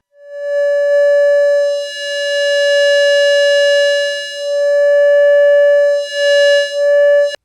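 Modular synthesizer multimode filter on a Nekyia Circuits Root Locus, a steady bright pitched tone held for several seconds with soft dips and swells in level as the filter switches between modes, loud and alone.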